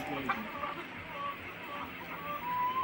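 Tiger breed chickens and roosters, fully vaccinated parent stock on a farm, cluck softly in short scattered calls over a steady background hiss, with no talk.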